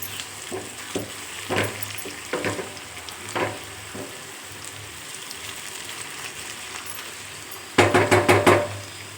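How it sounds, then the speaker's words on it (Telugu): Eggplant fry with curry leaves being stirred in a pan: a constant sizzle under scattered scraping strokes of a spoon, then a louder run of rapid knocks near the end, with no talking. "వంకాయలు ఫిఫ్టీ పర్సెంట్ మగ్గిపోయాయి అలాగే కరివేపాకును కూడా వేసేసుకొని మిక్స్ చేసేసుకున్నాం"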